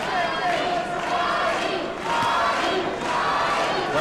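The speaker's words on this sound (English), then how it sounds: "Crowd now chanting for Arturo Gatti." Boxing crowd chanting for Arturo Gatti at a 1994 bout against Jose Sanabria, a loud, dense arena roar with rhythmic group chanting swelling in two waves.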